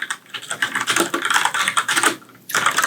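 A Cherry KC 200 MX mechanical keyboard being typed on at a desk, a fast continuous run of loud, close key clacks with a short pause before the typing resumes.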